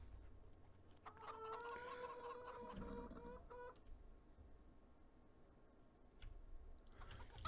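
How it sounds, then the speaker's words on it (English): Chickens cluck in a farm setting in the game Farming Simulator 19, a run of harmonic clucks and calls for a few seconds over steady low ambient hum, then fading back to quiet background. "Keep making those eggs, chickens."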